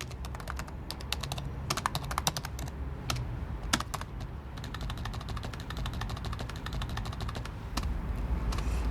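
Keys clatter in a steady, quick rhythm as J. K. Rowling types the final chapters of Harry Potter and the Deathly Hallows in January 2007; close, continuous tapping with no talk.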